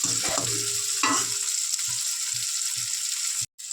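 Tomato and onion, with green chilli, fry in a pan as a spatula scrapes and stirs in a regular rhythm over a constant hissing sizzle, close and fairly loud.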